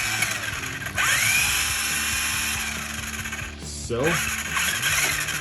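A restored 1987 Tamiya Blackfoot RC truck's electric throttle motor whines up and down in short bursts, with steering servo buzzes, close by, and someone speaks briefly over it.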